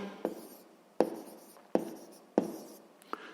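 Pen strokes on paper while writing out a 6th-grade math exercise solution, five distinct scratchy writing bursts at roughly regular intervals, close and quiet.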